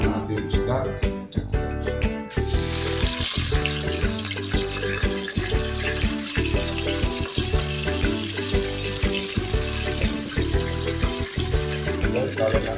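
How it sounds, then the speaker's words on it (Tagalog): Dried fish sizzle and crackle in hot oil in a pan, a dense, continuous frying hiss with irregular spatters close by, steady after a louder clattering start. "So guys, prito na natin yung isda."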